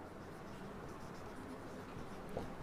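Pencil scratching steadily across paper at a desk during a maths lesson, a continuous close, soft dry scraping with no talking over it.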